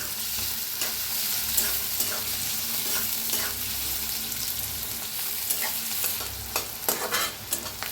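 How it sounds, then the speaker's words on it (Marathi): Green chilli, onion and crushed garlic fry in a pan, giving a steady close sizzle with occasional stirring scrapes and no talking. "आता हिरवी मिरची कांदा छान भाजायला लागलाय, लसूण ह्याच्यातच भाजून घेऊया आपण"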